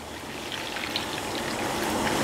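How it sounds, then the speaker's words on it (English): Water is poured into a baking tray of short ribs for a Panang curry, a continuous splashing trickle that builds gradually in volume, with no talking. "So we'll just add some water into the baking tray."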